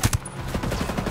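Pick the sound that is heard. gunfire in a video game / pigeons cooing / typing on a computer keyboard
gunfire in a video game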